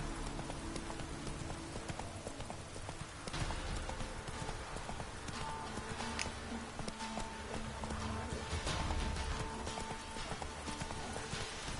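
Video-game horse Roach galloping with steady, rapid clip-clop hoofbeats throughout, joined by a brief whinny, over a continuous layer of game music and ambience.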